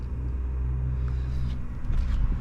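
Peugeot RCZ THP200 with its backbox deleted and twin 4-inch exhaust tips, a steady low, fairly mellow exhaust rumble that swells slightly near the end, with no talking.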